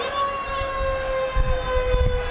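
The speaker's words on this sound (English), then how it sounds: "Let the kids control the siren, that is." Fire truck siren at a St. Patrick's Day parade in Utica, a loud, sustained steady wail held at one pitch, with low thumps and crowd rumble beneath it.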